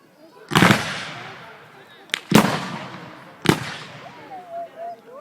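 Three loud musket shots ring out at a Civil War reenactment at Greenfield Village, spaced a second or more apart, each with a sharp crack and a long outdoor echo, followed by faint voices.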